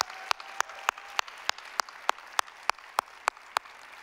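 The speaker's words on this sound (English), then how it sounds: "let's give a round of applause to our customers for being such good representatives" Applause rises from the crowd at a company keynote event, a steady wash of clapping with a few sharp rhythmic claps standing out, moderately quiet and without talk.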